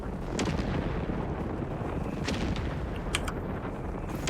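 Artillery barrage in the Company of Heroes 3 video game, a dense, continuous rumble of booming impacts with sharper blasts cutting through, loud and sustained without any talk.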